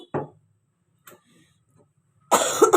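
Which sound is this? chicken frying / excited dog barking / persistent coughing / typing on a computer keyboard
persistent coughing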